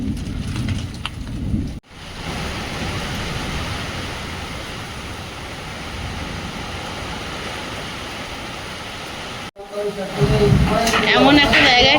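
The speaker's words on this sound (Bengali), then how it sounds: "শাঁ শাঁ করে বৃষ্টি আসছে দূর থেকে।" Heavy rain pours down outdoors at a village home as a storm rolls in, a dense steady roar of falling water that cuts in sharply, holds for several seconds, then gives way to louder, rougher noise.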